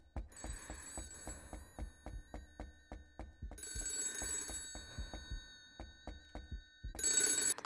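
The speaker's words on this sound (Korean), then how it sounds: "벨소리 울리는 걸 눌러야 되나 보다" Telephone ringing in the 3D horror game Ao Oni: a loud electronic ring repeating in bursts with steady rhythmic clicks underneath, cutting off and restarting several times, with no talk.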